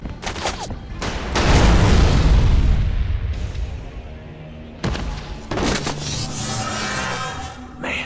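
An explosive barrel bursts in the 2005 Area 51 shooter with a loud, deep boom that rumbles and fades, then a second burst of blasts and crackling gunfire follows, and a faint voice sounds underneath.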